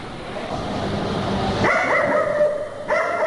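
A distressed dog confined in a cage at an airport cargo terminal barks and yelps loudly and close, with sharp, high cries in short bursts.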